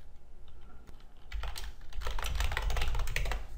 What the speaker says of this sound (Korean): 엄청 빨리 타이핑하죠.